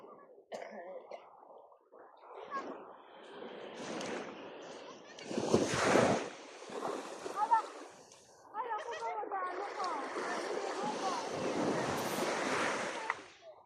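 Sea surf washes steadily along a beach on a morning walk, broad rushing waves with wind buffeting the microphone, while a person talks intermittently and footsteps shuffle through the sand.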